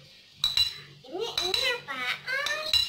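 A spoon clinks against dishes and pans during children's cooking of Japanese-style grilled beef with soy sauce and teriyaki sauce, giving a few close metallic taps amid kitchen clatter.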